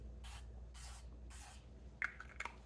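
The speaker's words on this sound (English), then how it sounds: "I then take spray. I use ghee spray." Ghee cooking spray released into a muffin tin's cups in three short hissing bursts, soft and close, followed by a few light clicks and taps of handling.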